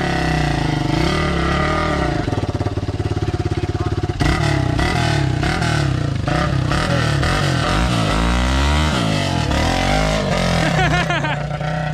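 A motorcycle rides up at an off-road test site with its engine close and loud. The throttle revs in uneven bursts and surges that continue for about twelve seconds.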